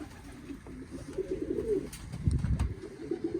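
Pigeons coo close by in low, throaty rolling calls, a few overlapping phrases with a louder burst toward the end, without any speech.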